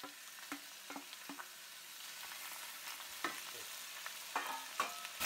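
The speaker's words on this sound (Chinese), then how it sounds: "我们来煎一下那个洋葱，然后把这个牛肉搞进去，煎一下" Onion and beef frying in a pan for sukiyaki, with a steady low sizzle under repeated sharp clinks and scrapes of a utensil stirring, fairly quiet and without talk.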